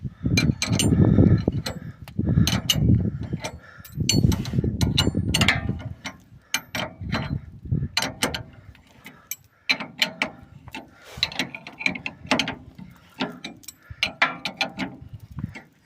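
Ratchet wrench and car jack worked during car suspension repair, clicking and clattering in quick bursts of metallic ratcheting, close and fairly loud, with no talk.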